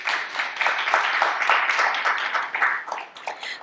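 A modest audience at a literary event applauds, with clapping that swells and ebbs unevenly across the short stretch and individual claps standing out.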